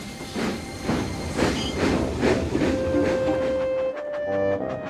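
Steam train puffing along a track in a series of rhythmic chuffs with hiss, then a sustained whistle-like tone near the end, fairly close and steady with no talk.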